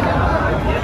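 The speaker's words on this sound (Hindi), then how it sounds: "आप देख सकते हैं यहाँ कितनी भीड़ लगी हुई है" A dense crowd gathered around Owaisi in a village in Kushinagar produces loud, close chatter and babble of many overlapping voices.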